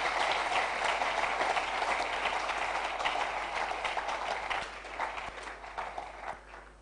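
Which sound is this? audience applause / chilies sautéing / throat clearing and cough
audience applause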